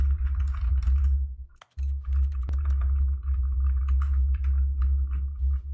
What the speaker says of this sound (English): Let me press everything but J for a second.